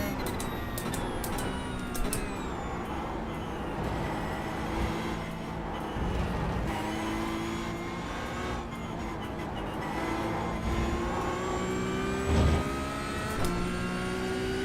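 Porsche race car engines in Assetto Corsa, a steady, continuous drone of several cars running together at high revs, with tonal whine holding throughout and no talk.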